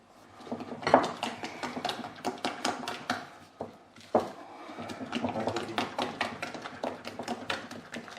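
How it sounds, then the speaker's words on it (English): A spatula scraping the sides of a mixing bowl of Victoria sandwich cake batter, making repeated close clicking and knocking taps in an uneven rhythm with short pauses. "Keep scraping the sides of the bowl."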